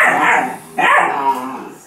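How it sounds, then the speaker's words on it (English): Puppies barking and yipping up close and loud, two overlapping excited bursts in quick succession with whiny, high-pitched tones. "Let's see if I can settle these puppies down."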